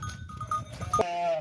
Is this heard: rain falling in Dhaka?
no